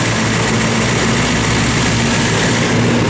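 A stock rebuilt 454 big-block V8 in a 1969 Chevrolet Camaro RS/SS idles loudly and steadily up close, a deep, even rumble with no voices over it.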